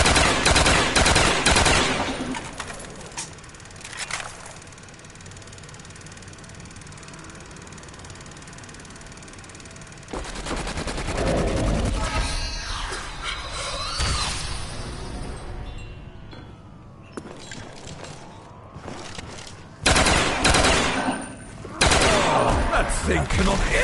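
Upgraded FAL fire in Black Ops 1 Zombies on the Kino map comes in loud bursts, with quieter stretches between volleys and a dense cluster of shots near the end.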